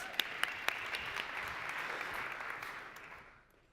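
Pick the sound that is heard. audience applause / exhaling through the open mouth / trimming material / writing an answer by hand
audience applause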